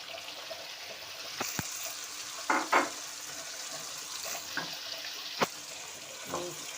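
Meat coated in yogurt and spice masala with nutmeg and mace being sautéed for a roast, a quiet hiss broken by sharp spoon scrapes and clacks against the pot.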